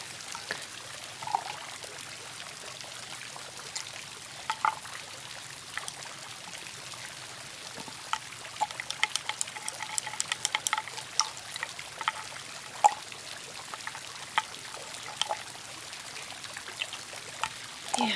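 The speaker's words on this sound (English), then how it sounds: "just take the bottle and put some water in it" Water trickles and pours into a bottle in a quiet room, a soft continuous stream broken by small splashes and drips throughout.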